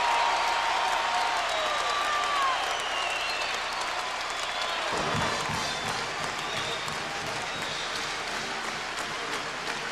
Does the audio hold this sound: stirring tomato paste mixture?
no